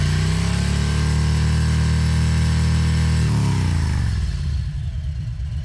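A motorcycle engine holds a loud, steady high-throttle rev with the clutch slipping in the friction zone, then drops sharply in pitch and settles into a lower, rougher run near the end.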